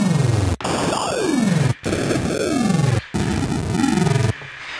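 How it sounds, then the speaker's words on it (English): Harsh, gritty downsampled synthesized tones made in Reason 6, with sweeping pitch glides, broken by abrupt cuts into short segments, giving a crunchy, robotic digital character. "this actually downsamples the sound, so it makes it sound, well, robotic"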